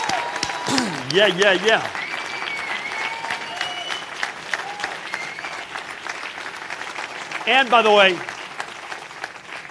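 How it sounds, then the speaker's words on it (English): Scattered audience applause at a governor's town hall in Ewing, a soft background patter of clapping beneath someone speaking, with two brief louder bursts of voice. "not that I was fishing for applause there or anything"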